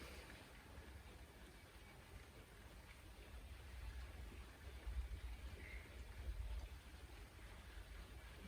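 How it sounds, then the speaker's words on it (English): Steady soft rain patter, faint and continuous, with slightly louder swells midway; no voices. "Not sure if you can hear the rain."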